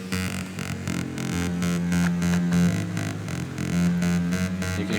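Long sustained and short staccato synthesized bass lines from a video game music track play together, the overlapping notes creating a rapid throbbing, pulsing effect as they interact, steady and loud throughout with no talking.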